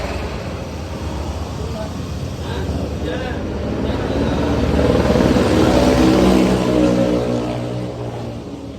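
Close, steady engine noise from a Daihatsu Sigra with a low-rpm fault, shaking and sputtering, swelling louder midway then easing back, with people talking over it.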